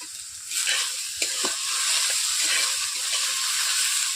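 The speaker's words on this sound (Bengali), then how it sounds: "সবজিগুলোকে এভাবে আমি নেড়ে নিচ্ছি বন্ধুরা।" Salted vegetables, including pui shak greens with potato and eggplant, are stirred in a kadai, loud sizzling broken by scraping strokes of the spatula.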